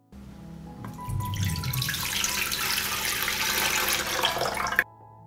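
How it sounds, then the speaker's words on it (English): A liter of water pours into a deep pan for a marinade, a steady splashing stream starting after a brief trickle and running for about four seconds before stopping abruptly. "I pour a liter of water into a deep pan."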